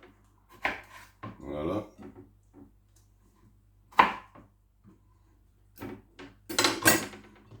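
A knife cuts tomatoes in a kitchen: a handful of sharp, separate clacks and scrapes on a board, spaced irregularly, with a brief spoken word and some quiet murmuring between them.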